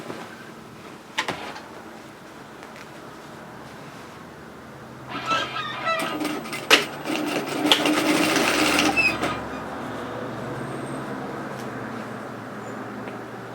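A sewing machine stitches down the sides of an unlined tote shopping bag in steady running bursts, starting faintly, then growing louder and busier midway before settling into a continuous hum, with no talking.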